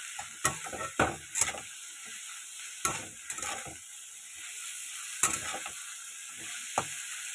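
Food frying in a pan, a faint steady sizzle with sharp scraping strokes of a spatula stirring at irregular intervals, nearby and with no talking.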